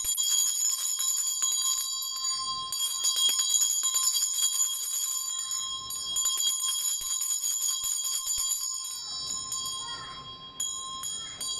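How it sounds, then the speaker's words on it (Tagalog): A Tibetan bell is struck several times to cleanse a room, each bright, ringing tone sustaining and overlapping into a shimmering drone with a few soft clinks between strikes. "magpapa-bell lang ako ng Tibetan bell to cleanse the space"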